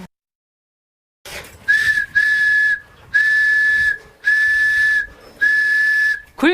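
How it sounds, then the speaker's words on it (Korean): A handmade Korean horuragi whistle blown in five sustained shrill blasts with short gaps between them, loud and close, and nothing else in the background. "굵기와 길이, 재료에 따라 다양한 소리가 나는 호루라기"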